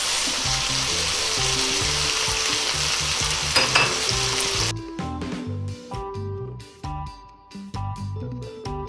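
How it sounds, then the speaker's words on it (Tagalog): Sardines go into a pan of cooked tomatoes with a loud, close sizzle. Partway through the hiss drops back, and the scraping and clattering of stirring takes over in uneven bursts. "Ngayon pong medyo luto na yung ating kamatis, ay pwede na nating ilagay ang ating sardinas"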